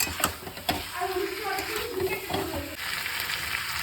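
Chicken being sautéed with spices in a pan, with a steady sizzle and frying hiss alongside occasional clinks and scraping of stirring, fairly close and moderately loud throughout.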